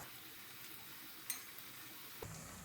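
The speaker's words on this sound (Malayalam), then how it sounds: "മാവ് ഇതിലേക്ക് ഇട്ട് കൊടുക്കാം ചെറു ചെറുതായിട്ട് നുള്ളി നുള്ളി ഇട്ട് കൊടുത്താൽ മതി" Rava onion bonda batter pinched into small bits and dropped into hot oil in a small frying pan, giving a quiet, steady sizzle with a couple of faint clicks from the pan.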